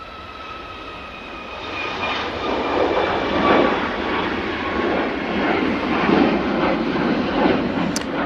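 A Ryanair plane at Manchester Airport roars loudly and continuously, its jet engine noise swelling and holding strong over several seconds with a steady whine on top, no talk.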